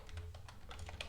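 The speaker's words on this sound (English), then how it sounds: "we're basically typing google.com." Keys clack on a computer keyboard as a web address is typed, a quick run of about eight crisp taps, close and fairly quiet, with no talk.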